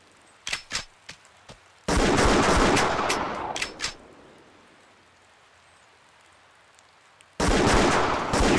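Hunting rifle shots in the Buck Fever deer-hunting game on the Wii: a handful of sharp, separate cracks early on, followed by long, loud, hissing bursts of dense noise with a quiet gap between them.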